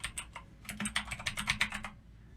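Quick typing on a computer keyboard, a short burst of light, crisp key clicks in a rapid irregular rhythm, close and fairly quiet, with nothing else heard.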